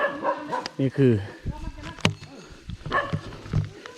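Dog howling and barking in a forest setting, with rising howl-like tones and short barks close by, mixed with people talking over it.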